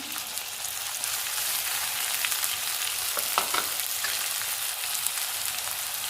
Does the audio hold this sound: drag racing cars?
no